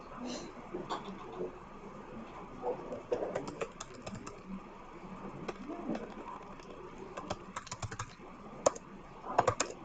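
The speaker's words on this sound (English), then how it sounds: "so I do a lot of typos because I don't do touch typing." A computer keyboard clatters with irregular bursts of keystrokes over a soft background hum, close and moderately quiet, with a few sharper key taps toward the end.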